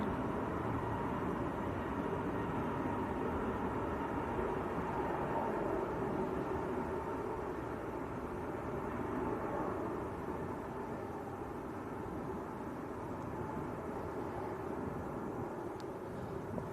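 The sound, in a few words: EasyJet airliner passing at Manchester Airport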